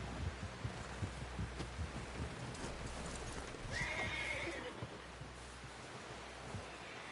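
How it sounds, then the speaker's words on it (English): Horse hooves clip-clopping steadily in the video game Red Dead Redemption, with a horse whinnying midway, all fairly quiet under faint ambient noise. "Someone help John down off this horse."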